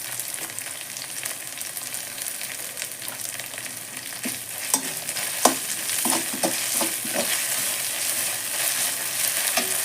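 Onion, ginger, garlic and fresh curry leaves fry in a pan for a tamarind pulusu dish, a continuous close sizzle broken by several sharp crackles and pops as the leaves hit the oil.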